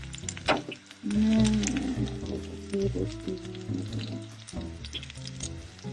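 Butter sizzles in a hot pan with potatoes for a Japanese-style German potato dish, a steady crackling fry close by with soft stirring clatter, under a tonal background.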